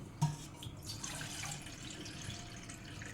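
Water is poured at home to make lemon juice, a faint, steady trickle with a slight splash at the start, close by and with no talking.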